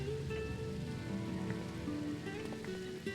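Steady rain patters in Final Fantasy XIV, a continuous even hiss of drops on surfaces beneath a soft ambient game tone, with no talking.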